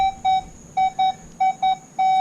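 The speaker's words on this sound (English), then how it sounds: "there's a tone difference on the silver versus the clad" A metal detector on a beach sounds a steady mid-pitched electronic tone for a clad quarter, repeated as about seven short, even beeps in quick rhythm, loud and clear with no talking.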